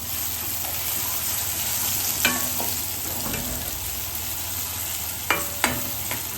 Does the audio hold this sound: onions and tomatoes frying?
yes